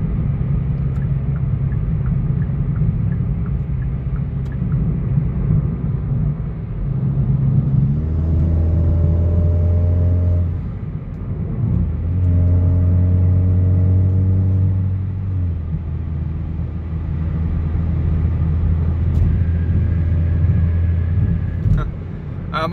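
A 2018 Hyundai Elantra GT fitted with an aFe axle-back exhaust cruises on the highway, a steady low engine drone and road rumble rising and falling slightly as the revs shift.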